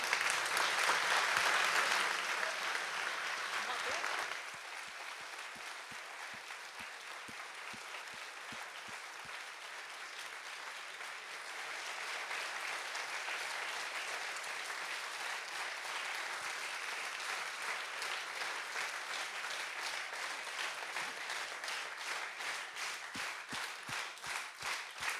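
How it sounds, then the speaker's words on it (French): Sustained audience applause at a conference event, loud and dense at first, then easing to a steadier, softer roar of many hands that continues for over twenty seconds with scattered distinct claps. "Je crois que les applaudissements sont éloquents"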